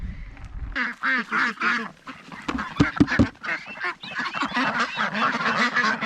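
Farmyard ducks quacking loudly and continuously at close range, with honking goose-like calls mixed in, a dense overlapping chorus of squawks with no talking.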